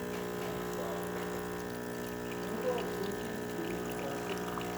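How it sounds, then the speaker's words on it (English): Espresso machine in extraction, its pump pushing water from the thermoblock out through the spouts as coffee flows; a steady, even hum with a faint liquid trickle, continuous and close, no voices. "it's gonna push water from the thermoblock into the spouts."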